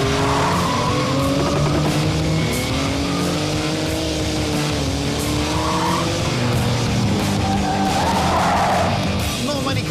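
A Porsche GT2 RS slides through a track corner, its tyres squealing loudly and continuously over the wavering roar of its engine for the whole stretch.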